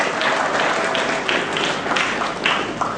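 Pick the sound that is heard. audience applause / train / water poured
audience applause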